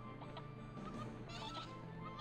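Chickens cluck in short, soft bursts in the fantasy game The Mighty Quest for Epic Loot, faint and close under a light game ambience.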